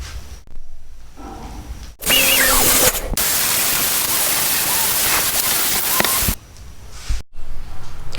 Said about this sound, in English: Okay, we've drilled all the holes out.